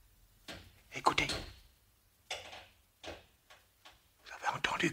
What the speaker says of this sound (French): Vous avez entendu craquer le parquet?